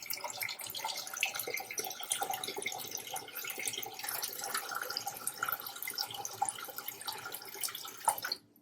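Tap water pours into a pot holding eggs, a soft, continuous splashing and trickling that stays faint and even, then stops abruptly at the end.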